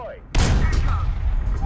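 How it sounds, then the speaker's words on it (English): A tank shell ricochets off a KV-1 in War Thunder: one sudden loud metallic crack that rings briefly and fades into battle rumble. "ricochet on KV-1"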